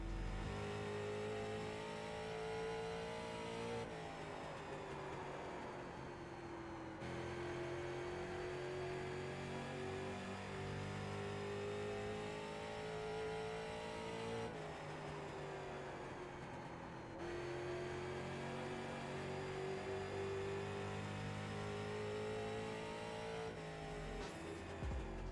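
A race car engine drones in the iRacing sim at the North Wilkesboro oval, a continuous loud mid-pitched roar that rises in pitch, drops at each gear change and climbs again, repeating through several cycles.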